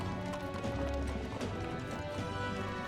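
Horse hooves clip-clop in a steady trotting rhythm in the fantasy video game Metaphor: ReFantazio, close and continuous, with music playing beneath.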